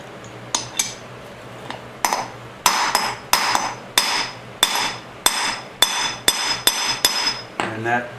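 A hammer seats a rear wheel bearing fully into the drive flange of a 1973 Honda CB750 cafe racer, with a steady run of about a dozen bright, ringing metallic blows, close and loud, no voices.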